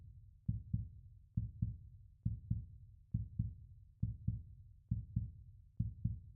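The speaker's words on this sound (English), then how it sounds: "You guys love my artificial heartbeats." Artificial heartbeat sound effect played over a live baseball playoff stream, Samsung Lions versus KIA Tigers: steady low double thumps, lub-dub pairs repeating about once per second, alone and moderately loud.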